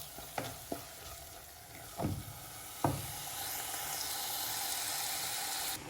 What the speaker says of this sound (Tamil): சிக்கனை போட்டுட்டு கிண்டி விட்ருக்கேன்.